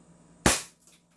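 A single sharp shot from a KP19 airsoft pistol, loud and close, with a quick bright crack that decays over a few tenths of a second in an otherwise quiet space.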